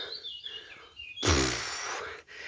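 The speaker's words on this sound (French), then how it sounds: "ces oiseaux qui m'accompagnent" Small birds chirp faintly among outdoor vegetation, high thin calls scattered over a quiet background, then a sudden loud breathy rush of wind or rustling takes over the second half.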